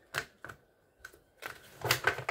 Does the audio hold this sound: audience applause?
no